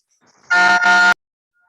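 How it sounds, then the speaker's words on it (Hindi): A single loud, close car horn honk, two quick blasts run together, heard from a classroom, then silence. "कौन हॉर्न बजा दिए?"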